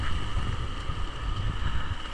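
Strong southwest monsoon wind buffets the microphone in a continuous low rumble with gusty swells, steady and close, with no speech, on the coast at Borongan City.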